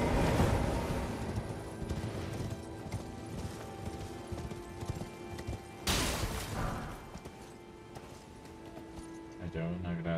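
Horse hooves clip-clopping in the video game Elden Ring, rapid repeated galloping hoofbeats with a sudden crash partway through, heard under game music and effects while someone talks over it.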